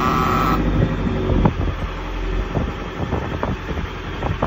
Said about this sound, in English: You can hear the engines right below me